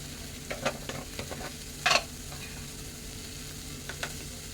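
Ghevda beans stir-fried in a pan give a soft, low sizzle with scattered scraping strokes and one sharper clatter near the middle, quiet and close with no talking.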